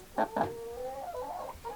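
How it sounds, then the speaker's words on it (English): A chicken clucks softly nearby: two quick sharp clucks followed by a drawn-out, wavering murmur of low clucking notes. "Chickens are getting big."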